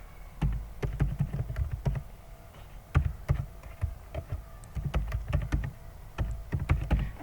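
An email address being typed on a computer keyboard, a close series of quick, uneven key clicks with short pauses between bursts, without any talk.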